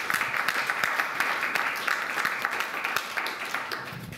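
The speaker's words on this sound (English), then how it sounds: "let's give him one applause." Audience applause at an evening developer meetup, a moderate crowd clapping steadily for several seconds at a fairly soft level, with no talk over it.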